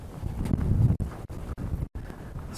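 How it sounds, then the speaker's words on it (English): Heavy wind buffeting a microphone outdoors at Caprock Canyon State Park in Texas, a loud rumbling roar in gusts broken by several abrupt brief dropouts. "Heavy wind today."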